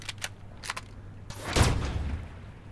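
Shots fired into water in the game Empyrion: a few short sharp reports, then a louder burst with a low splashy rumble that lingers and fades, fairly close.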